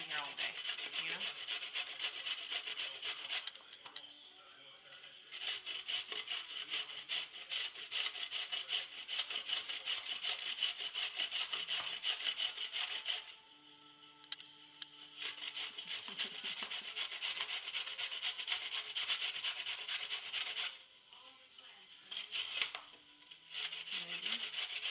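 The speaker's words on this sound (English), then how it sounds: "I don't know if this is considered ASMR, but if it is, here's some shredding carrot ASMR." A carrot shredded on the large side of a kitchen grater gives long, steady rasping scrapes, repeated closely and loudly with brief pauses between runs.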